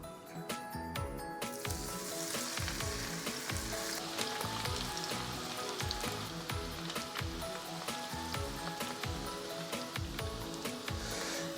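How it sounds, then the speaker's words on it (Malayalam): Cornflour-coated precooked beef deep frying in hot oil over high flame, a dense, loud, continuous crackling sizzle with rapid bubbling and popping throughout, no voices. "അപ്പോൾ നമ്മുടെ എണ്ണ തേച്ച് തിളച്ച് വരുന്നുണ്ട്. നമുക്ക് പെട്ടെന്ന് തന്നെ ഇതിനെ വറുത്തെടുക്കാം."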